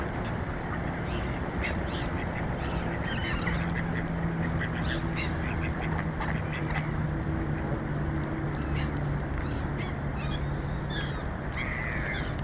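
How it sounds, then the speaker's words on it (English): Geese honking outdoors near water, scattered brief calls over a steady broadband wind or water rush, fairly distant and modest in level. "Oh, another goose here."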